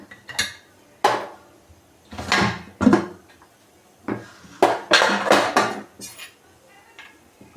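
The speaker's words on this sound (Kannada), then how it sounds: "ಕುಕ್ಕರ್ ಓಪನ್ ಮಾಡ್ತಾ ಇದ್ದೀನಿ ಇವಾಗ" A kitchen pressure cooker holding cooked greens and lentils is opened, giving a series of loud, close metallic clanks and rattles of the lid and vessel, separated by short pauses.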